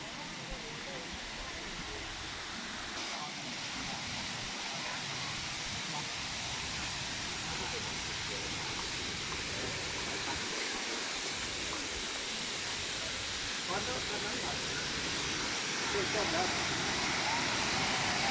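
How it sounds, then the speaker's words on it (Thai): Steady broadband rush of the Huai Mae Khamin waterfall in Thailand, a continuous roar heard up close that holds level throughout, with faint voices mixed under the water noise. "เดี๋ยวเราจะไปดูน้ำตกกันนะครับ"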